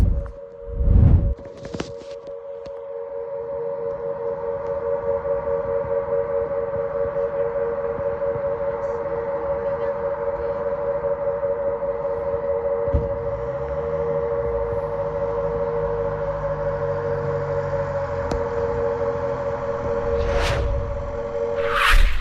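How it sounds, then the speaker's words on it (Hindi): An air-raid siren wails at a British military base in Cyprus during an attack, a steady two-tone drone holding for about twenty seconds, with a sharp bang near the start and another burst near the end, no voices. "जिसके अंदर धमाके की आवाज, कुछ एक्टिविटी की आवाज, साथ में सायरन की आवाज आ रही है।"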